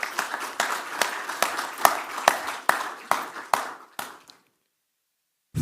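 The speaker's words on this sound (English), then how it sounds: "A huge round of applause for him, please" Audience applause at a launch event, a dense burst of clapping from a crowd with sharp individual claps standing out, gradually thinning out and stopping abruptly after about four seconds, followed by silence.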